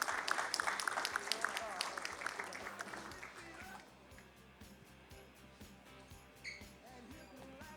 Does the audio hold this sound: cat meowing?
no